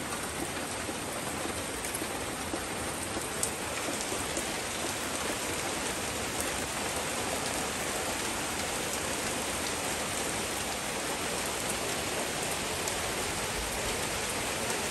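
Steady, dense rainfall of the first monsoon-season shower after the dry season pours down close by without pause, an even hiss of drops on surfaces and no voices.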